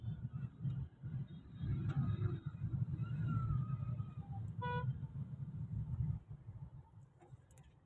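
Steady road traffic with vehicles rolling past, a continuous low rumble and hum of engines and tyres nearby, with a brief horn-like tone partway through and no talking.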